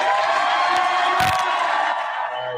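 A large crowd of supporters at a Ruben Gallego rally in Arizona roars and cheers steadily, loud and dense throughout, with a few sharp whoops breaking through.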